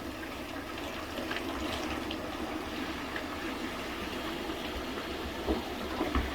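Dirty, dark brown water pours steadily out of a Fluval 404 aquarium canister filter being cleaned, a continuous close splashing rush with no talking.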